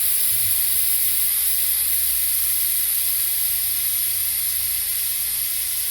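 A VEVOR 5 ton air jack lets its air pressure out in a steady, loud, broadband hiss that holds unbroken throughout as the jack sinks down.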